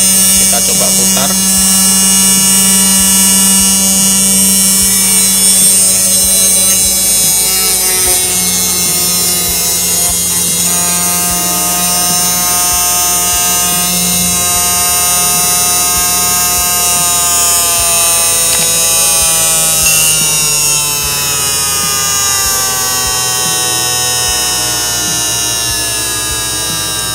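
An RS-540 DC motor, a 6V Johnson 62850, spins under a speed controller with a steady electric whine and hum, its pitch sliding as the speed changes. A voice talks faintly in the background.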